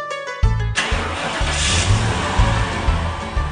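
A car engine cranks briefly and catches, then settles into a steady rumbling run with a rhythmic low pulse, loud and close.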